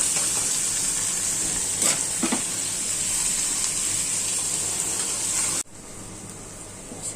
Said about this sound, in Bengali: এটা হচ্ছে পেঁপে সিদ্ধ করা, ভাজি করব।